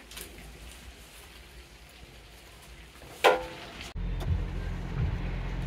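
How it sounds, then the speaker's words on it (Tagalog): Steady rain hisses in the background, with a sharp knock partway through, then the sound shifts to a heavier, rumbling downpour. "Ang lakas ng ulan."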